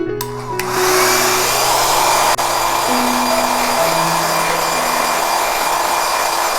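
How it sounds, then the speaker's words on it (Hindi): A hair dryer runs loud and close while drying watercolour paint, a constant whooshing roar with a brief click partway through and a slight shift in pitch. "इसीलिए मैं हेयर ड्रायर का यूज़ कर रहा हूँ, जिससे ये प्रोसेस थोड़ा सा फास्ट हो जाए और कलर जल्दी से सूख जाए।"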